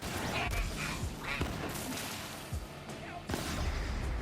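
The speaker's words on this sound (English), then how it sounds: "I shot him in the foot" Gunfire in Borderlands 3 cracks out as several sharp shots at irregular intervals, set against a dense, loud game soundscape.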